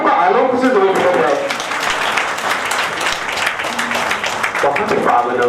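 Audience applause at a book launch, continuous and loud, with a speaking voice heard over the clapping at the start and end.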